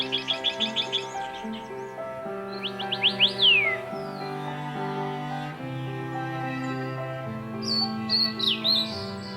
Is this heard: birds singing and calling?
yes